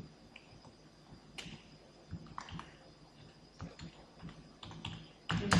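Typing text on a computer keyboard, scattered soft key clicks in short irregular runs, quiet and close, ending with a louder clatter.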